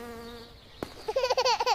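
A bee buzzes around flowers, a steady droning hum that grows louder and more pulsing as it moves close, heard alone.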